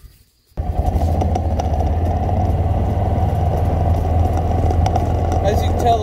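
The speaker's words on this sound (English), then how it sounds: "As you can tell, the mule is very quiet at low speeds." Kawasaki Mule SX XC 4x4 utility vehicle starting to drive at low speed, its engine rising abruptly from near-silence into a steady, even, moderately loud drone that holds throughout, with a low rumble underneath.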